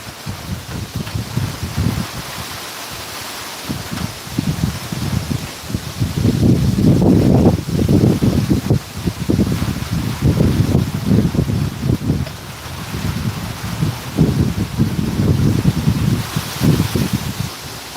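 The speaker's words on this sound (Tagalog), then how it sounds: "Sobrang lakas ng hangin." Strong typhoon wind from Typhoon Uwan in San Isidro, San Julian, Eastern Samar, roaring in heavy gusts with low rumbling buffeting on the microphone and rustling foliage, loud and continuous with surging peaks.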